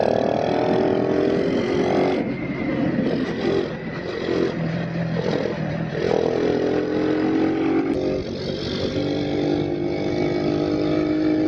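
A motorcycle being ridden through curves while its tire grip is tested, the engine droning loudly and continuously up close, its pitch shifting with throttle changes and wind rushing underneath, with no voices.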